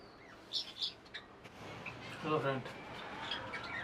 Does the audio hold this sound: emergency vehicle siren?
no